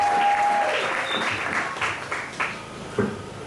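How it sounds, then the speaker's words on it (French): A church congregation bursts into loud applause and cheering, a dense continuous wash of clapping with a few louder claps and shouts standing out near the end. "Est-ce qu'on peut acclamer très fort pour la parole de Dieu?"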